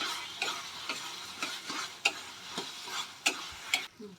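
Boiled, mashed potato is fried and stirred with masala spices for an egg masala curry. Soft scraping strokes repeat about every half second over a low, steady sizzle, close up, with no talk.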